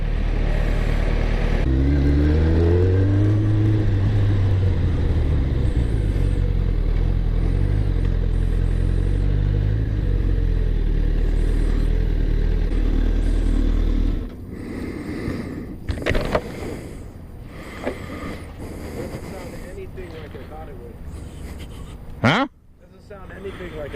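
The Mach-Cleetus car engine drones and revs loudly in the first half, its pitch rising and falling, then drops away as people talk over clattering and shop noises.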